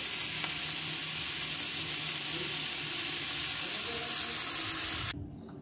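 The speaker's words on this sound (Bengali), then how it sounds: "দেখুন সবজিটাকে কত সুন্দর করে ভেজে নিচ্ছি।" Vegetables fry in a pan for khichuri, a steady bright sizzle running continuously at moderate loudness and then cutting off abruptly near the end.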